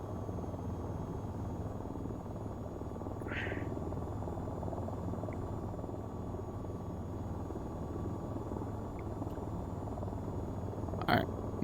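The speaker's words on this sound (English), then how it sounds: "Helicopter here." A continuous low helicopter rotor drone in the flight game VTOL VR fills the whole stretch, steady and moderately loud, with a couple of brief higher blips over it.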